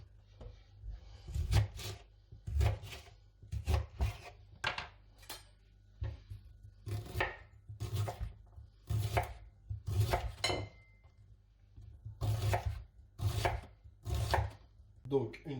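A knife chopping fennel on a cutting board after the core is removed: a close, regular series of crisp chops, roughly one every second, with nothing else heard.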